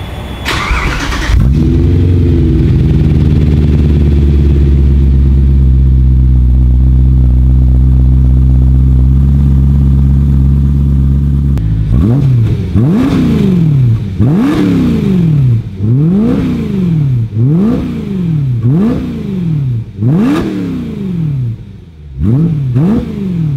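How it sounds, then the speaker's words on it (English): A BMW M3 engine starts and idles with a deep rumble, then is revved repeatedly in sharp rising bursts, loud and close, about eight revs in rhythm. "let me get a few little revs for you"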